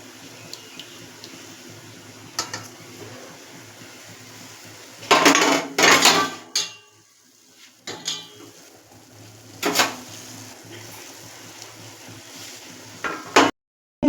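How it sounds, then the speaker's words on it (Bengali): Mustard-coated hilsa pieces go into a cooking pot for hilsa bhapa, bringing a few loud clattering bursts of metal utensils and pot between long quiet gaps, all close by. "সর্ষে মাখানো মাছটা আমি এর মধ্যে আস্তে আস্তে ছেড়ে দেব।"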